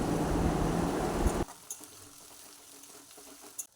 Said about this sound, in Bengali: এই শুকনো লঙ্কা বাটা দিয়ে ভালো করে এখন কষিয়ে নেবে লঙ্কাটা।